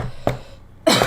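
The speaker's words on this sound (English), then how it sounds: "Cover your mouth when you cough." Two quick, harsh coughs from a person with a lost voice, the first short and the second louder burst near the end, close and dry.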